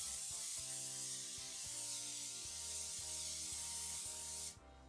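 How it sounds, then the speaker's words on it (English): Cooking oil spray hisses in one steady, continuous burst onto plastic cling wrap stretched over dough, close and loud, then cuts off near the end. "I'm going to spray the Glad wrap with some spray oil"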